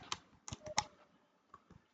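Quiet, close computer keyboard typing: a few separate key clicks in an irregular rhythm, then brief pauses and two softer taps, no talking.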